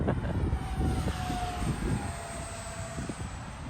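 A radio-controlled twin 64mm EDF MiG-29 model jet flies overhead, its steady ducted-fan whine holding through a broad, continuous rush of noise at moderate distance.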